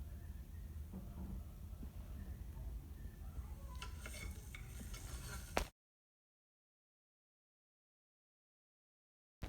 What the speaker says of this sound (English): Mix the onions into the mix as well with the spices